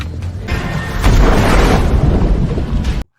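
A ship explodes in a Jason Statham action film: a heavy, rumbling boom swells after about a second and rolls on as a loud sustained roar before cutting off suddenly.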